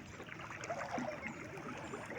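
Shallow water flows across a beach pathway at Pansol Beach in Lopez, Quezon Province, a faint continuous trickling wash with soft babbling texture.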